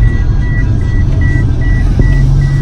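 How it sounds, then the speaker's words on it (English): A car's seatbelt warning chime beeps in a steady, evenly spaced rhythm, seven or so short tones over a low engine and road rumble. "The seatbelt indicator is beeping because I'm not wearing my seatbelt."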